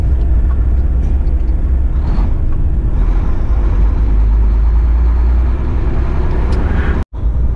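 Congested road traffic in a Chicago jam near the merge with I-90, a steady loud rumble of car and truck engines idling and creeping, with an air-brake hiss late on and a brief cutout near the end.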